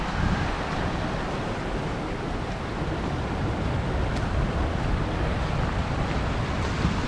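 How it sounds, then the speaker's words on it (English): Waves wash onto Honey Beach in Ankola during heavy rain and high tide, making a dense, steady rush of surf mixed with wind buffeting the microphone. The noise stays even throughout and no voices are heard. "It's still raining and we are by the beach."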